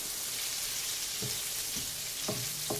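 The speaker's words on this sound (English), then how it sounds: "Got it on a medium-high heat. Let that onion cook." Onion frying in a pan over medium-high heat, a steady low sizzle running throughout with a few soft clanks of stirring utensils.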